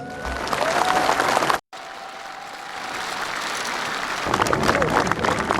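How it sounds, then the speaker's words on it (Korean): A crowd claps loudly and continuously for President Roh Moo-hyun, with a brief cut into another stretch of clapping and cheering. Voices murmur and call out beneath it. "여러분 박수로 한번 격려해 주시기 바랍니다"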